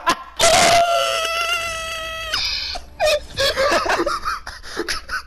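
A person imitates a wolf or coyote howl with the voice, one sustained rising-then-level wail lasting about two seconds, followed by a shorter tone and then scattered excited vocal sounds and laughter.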